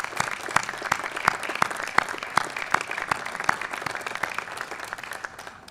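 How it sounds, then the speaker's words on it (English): An audience at the United States Capitol applauds responders' families during a Congressional Gold Medal ceremony, with steady crowd clapping and some louder individual claps standing out, fading slightly toward the end. "we should clap for the families"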